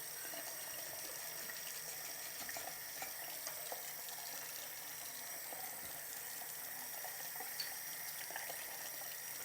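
Water runs steadily from a tap into a sink while paint sprayer parts are cleaned, a constant hissing splash with faint clinks, close by and without talk.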